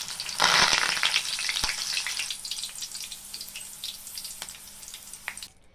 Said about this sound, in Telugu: మనం తీసి పెట్టుకున్న వెల్లుల్లి ముక్కల్ని, కరివేపాకు ముక్కల్ని నూనెలో వేసి దోరగా వేయించుకోవాలి.